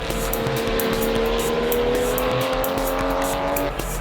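A race car drives at speed during the last race of the Super Taikyu Series, its engine a loud, sustained high-pitched whine with rising pitch and rapid pulsing, up close throughout.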